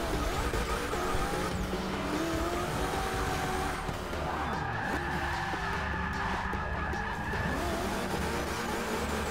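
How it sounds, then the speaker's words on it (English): A car skids and slides through sand in a racing video game, with a steady engine drone and scraping tire noise running unbroken for the whole stretch, loud and close, no talk. "See how it drives in sand."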